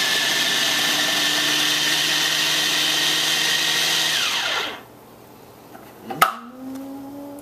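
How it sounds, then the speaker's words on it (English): A food processor whirs loudly while blending cilantro leaves, then its motor winds down and stops, followed by a brief clatter and a short whirring restart. "So the cilantro is now all blended."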